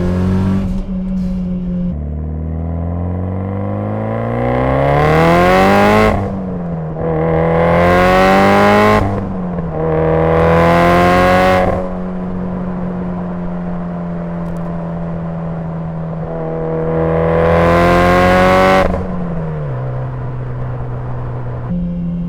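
A Mitsubishi Lancer Evolution IX drives uphill, its engine idling and humming steadily between repeated loud revs that climb in pitch and then drop back, heard close with no talking.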